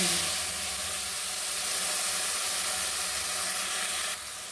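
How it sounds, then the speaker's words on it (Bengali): Nigella seeds and spice paste sizzle in hot oil, giving a steady, even hiss that carries on unbroken. "এবার ওই একই তেলে আমি দিয়ে দিচ্ছি কালো জিরে আমি যে পেস্টটা করে রেখেছিলাম সেই পেস্টটা"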